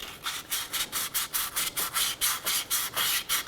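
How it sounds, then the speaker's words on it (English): Hand sanding of rust off a 2009-2015 Honda Pilot front wheel hub, a rapid, even back-and-forth scraping with about a dozen close strokes, alone. "So just sanding down some of the rust here."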